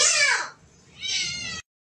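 A cat meows twice in a row, close and fairly loud: a rising and falling first call, a short gap, then a second, slightly shorter meow.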